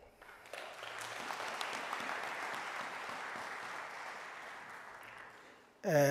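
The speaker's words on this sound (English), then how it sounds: "Another applause for all the donors in the house" An audience at a university student recognition ceremony claps for the donors, applause swelling quickly, holding steady at moderate volume, then fading before a voice cuts in at the end.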